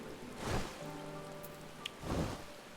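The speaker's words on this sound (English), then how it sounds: "It's raining." Rain falling in the Final Fantasy XIV game world, a steady soft patter that swells in two brief louder gusts, with faint tonal game music underneath and no voices.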